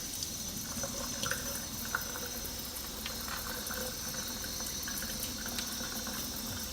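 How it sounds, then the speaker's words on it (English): Steady running tap water streams into a sink while shrimp are deveined under it, a constant soft hiss and splatter close by with occasional faint clinks and drips. "Under running water, we remove the veins."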